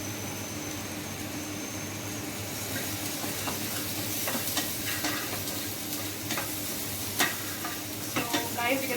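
Bread croutons cooking slowly over low heat in a pan, a soft continuous sizzle and hiss with scattered crackles and a few stirring clicks toward the end, no voices.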